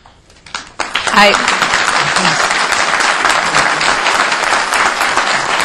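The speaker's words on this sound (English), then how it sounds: "if we could try to keep our applause to a limited or actually no applause at all" Sustained audience applause fills a hearing room, a dense steady wash of clapping that starts abruptly after a brief quiet moment and continues loud and unbroken.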